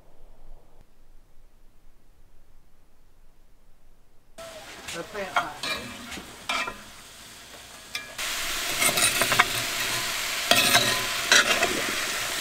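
Garlic and onion for Thai red curry hit a hot pan inside a van, bursting into a loud, steady sizzle after a quiet start, with stirring scrapes and the frying growing more intense.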